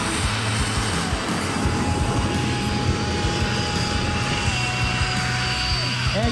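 An aerobatic plane performs at an air show in Athens, its engine droning steadily and loud with a sustained tonal whine that shifts pitch near the end, set against broad crowd and wind noise.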